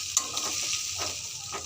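Fried potatoes with ginger, chili powder and cumin are stirred in a hot pan, a continuous close sizzle punctuated by a few brisk scraping strokes of the spoon.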